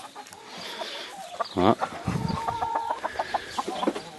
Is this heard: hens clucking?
yes